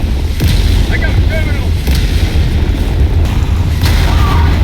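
Bombs going off in the Helldivers 2 video game, a dense stretch of heavy booms and rumbling blasts over constant loud low-end battle noise, with brief sharper bursts and faint chatter in the mix.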